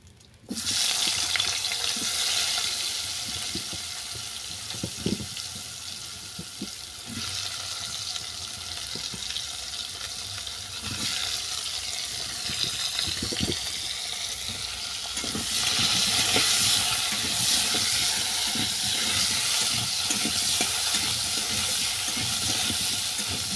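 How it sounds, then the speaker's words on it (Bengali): Ridge gourd and cucumber pieces frying in hot oil in a village-style kitchen: a loud, continuous sizzling hiss close by, with occasional stirring clatters and surges in intensity, no talk. "ঝিঙে আর শসাটাকে ভেজে নেব।"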